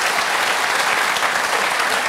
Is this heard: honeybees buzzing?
no